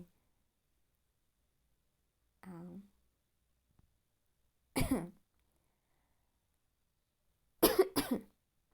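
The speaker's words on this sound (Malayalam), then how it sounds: "ആക്ച്വലി മഞ്ഞൊക്കെ കൊണ്ട് എനിക്ക് കോൾഡ് വന്നു. അതാണ് ഇടയ്ക്ക് ഇങ്ങനെ ചുമക്കുന്നത് കേട്ടോ." Isolated coughs from someone with a cold in a quiet room, spaced a couple of seconds apart, ending in a quick double cough.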